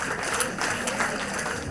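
A church congregation claps together, a steady crowd patter of hands at moderate volume lasting only a moment.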